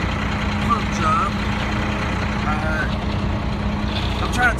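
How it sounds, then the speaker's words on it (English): A concrete mixer truck's engine runs in a steady, loud, close drone with a low hum throughout, with faint higher squeaks now and then. "It is noisy here. My truck is very noisy."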